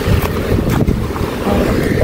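Wind blows hard outside, buffeting the microphone with loud, continuous rumbling gusts and broad rushing noise, and no voices are heard.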